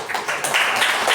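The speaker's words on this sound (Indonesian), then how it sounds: "Ya, tepuk tangan." A school class claps together in a classroom, a brief burst of moderate, irregular hand claps filling about a second.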